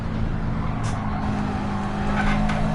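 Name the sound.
car engine and tyres in Gran Turismo 7 video game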